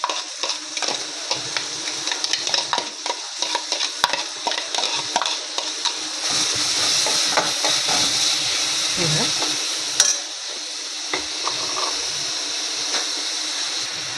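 Chopped onions sizzle and fry in a generous amount of hot oil for a Marathi-style leafy greens dish, with a steady crackling hiss and frequent spoon stirring scrapes against the pan.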